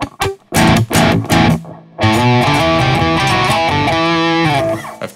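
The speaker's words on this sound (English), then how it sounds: "Here's my guitar on, and if I play this," Electric guitar running through two amplifiers at once, loud and distorted, with a few sharp choppy strums followed by a sustained ringing chord passage that fades out at the end.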